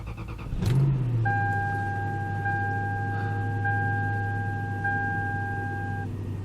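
A Lexus V8, freshly fitted with a new VVT sensor, cranks and catches with a loud start, then settles into a steady low idle with a faint whine.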